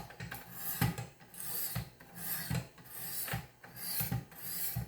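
A blade is pushed in rhythmic strokes across a 400 grit sharpening stone, each pass a close, gritty rasp repeating about once a second in a quiet room.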